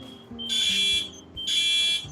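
A house fire alarm sounds in two long, shrill electronic bursts, each about half a second to a second long with a short gap between them, loud and piercing against a quiet room.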